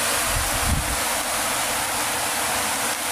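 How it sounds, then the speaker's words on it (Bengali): Rain falls on plant leaves as a steady, even hiss that stays constant throughout, close and fairly loud, with no voices. "পাতায় বৃষ্টির পানি পড়ে"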